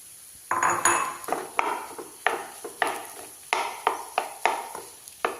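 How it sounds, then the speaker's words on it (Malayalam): Potatoes being stirred into masala in a pan for aloo paratha filling, a series of about a dozen rhythmic scraping and clanking strokes of a spoon against the pan, close and fairly clear. "അപ്പം ഈ ഉരുളൻകിഴങ്ങ് ഇതിലേക്ക് ഇടാം കേട്ടോ. നന്നായി ഇളക്കി കൊടുക്കാം കേട്ടോ."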